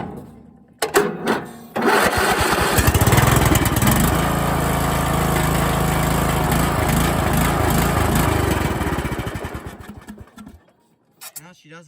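A cheap lawn tractor engine cranks with a few sharp bursts, then catches and runs loudly and raggedly for several seconds before dying away, leaving a couple of faint knocks at the end.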